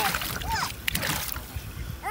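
A child splashes water in a backyard water table, with soft repeated splashes and sloshing close by, while an adult talks and exclaims excitedly over the play.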